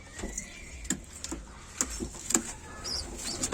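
Pigeons cooing faintly in a loft, soft repeated low calls spaced through the moment against a quiet background, no voices.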